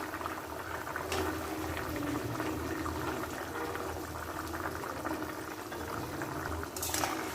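Curry gravy for a Bengali potol dish bubbles at a steady boil in a pot, a continuous low burbling that stays even and unbroken, with a faint clink near the end.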